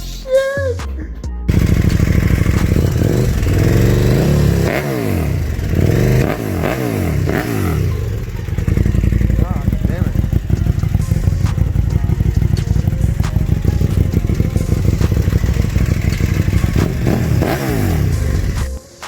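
A KTM 1290 Super Duke fitted with an SC-Project SC1-R carbon exhaust revs hard and close, with repeated rising and falling blips and a loud, crackling idle between them.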